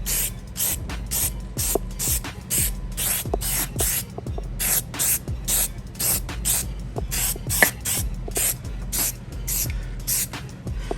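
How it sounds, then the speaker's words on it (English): Exterior trim dressing is sprayed onto a car's trim and fenders in a rapid series of short hissing bursts from a trigger sprayer, repeated steadily and close up over a low background hum. "Now what I'm going to do is I'm going to spray this."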